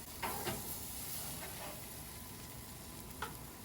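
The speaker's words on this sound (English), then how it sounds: "While it's resting, I'm actually gonna grill up my tortillas." Tortillas toasting on a grill beside resting steak give off a steady, moderate sizzle, with a few soft scraping or stirring touches along the way and no talking.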